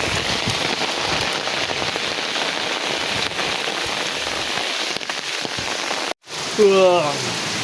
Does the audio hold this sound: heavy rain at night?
yes